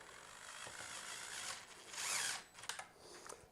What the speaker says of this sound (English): I'm gonna just gently start it with my DeWalt